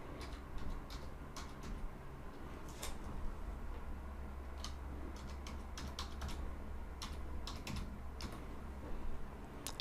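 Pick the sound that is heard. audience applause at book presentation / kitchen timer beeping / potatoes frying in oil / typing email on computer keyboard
typing email on computer keyboard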